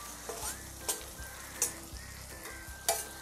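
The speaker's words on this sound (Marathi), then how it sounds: "आता त्याच्यामध्ये टोमॅटो टाकते। टोमॅटोला आपण शिजवून घेऊया।" Chopped tomatoes frying with browned onion in a pan for okra bhaji, a steady close sizzle broken by several sharp stirring scrapes and clinks of a spoon against the metal.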